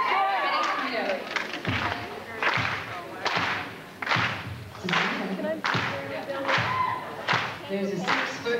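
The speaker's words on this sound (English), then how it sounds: "you have to clap with me" An audience at a 2001 Xena fan convention in Pasadena claps along in a steady rhythm, loud and full, with a voice performing a rap over the beat throughout.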